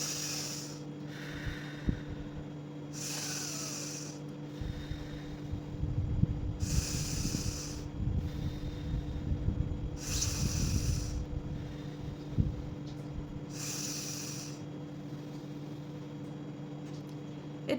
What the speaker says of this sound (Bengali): নাক দিয়ে নেবো, মুখ দিয়ে ছাড়বো